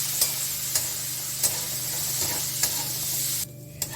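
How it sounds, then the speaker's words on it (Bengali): Soaked lentils fry in hot oil in a pan, a steady close sizzle broken by several sharp stirring scrapes spread through the sequence, with no talk. "ওই তেলে আমি এই যে ডালটা ভিজিয়ে দিয়ে নিয়েছি, ওই ডালটাকে আমি ভেজে নিচ্ছি।"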